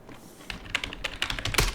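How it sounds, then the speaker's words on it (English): A password is typed on a computer keyboard: a quick, close run of light key clicks building to a few firmer taps at the end. "And I'm going to type the password again."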